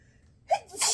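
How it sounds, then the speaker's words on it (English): A single close sneeze, a sharp intake of breath followed by a forceful burst, after a moment of quiet. "I have to sneeze"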